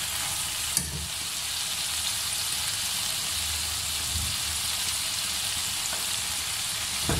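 Potatoes frying gently on a low flame for an Afghani omelet, a steady, even sizzle and crackle at moderate level with a few faint spatula taps, no voices.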